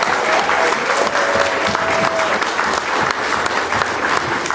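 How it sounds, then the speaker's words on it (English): Convention crowd at the BeavCon 2025 opening ceremonies applauding the officers: steady, dense clapping from a large audience throughout, loud and close, with a faint voice briefly audible underneath. "so if y'all will give a round of applause"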